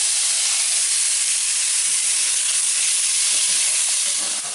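Chicken and shrimp for teriyaki sizzle in a pan as a dense, loud, steady hiss with no voices, constant throughout.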